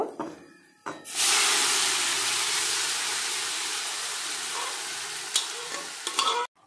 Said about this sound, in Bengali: এর মধ্যে সিদ্ধ করা শাকগুলোকে ঢেলে নেব।